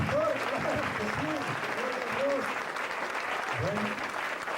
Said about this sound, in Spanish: Un aplauso para el pastor